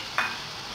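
A quick scrape of a spoon stirring minced meat into fried onion in a pan for a Russian-style pie filling, one short stroke over a faint steady sizzle.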